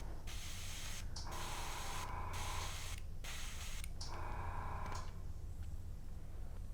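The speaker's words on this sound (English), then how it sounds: "hold my finger over the tip, and I push down for air and pull back just a little bit for paint" Airbrush back-bubbling with its tip blocked, churning flesh-tone paint in the cup for a model figure base coat: steady airy hiss broken by several short spurts of gurgling bubbling, close and alone.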